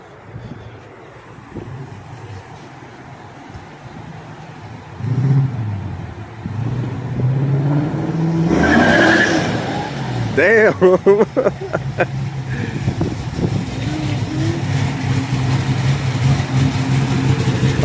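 A 600 hp Lexus with an LS V8 swap and a newly connected exhaust pulls up, its engine rumbling and revving to a loud burst with crackles, then settling into a throaty idle under wind noise and excited talk.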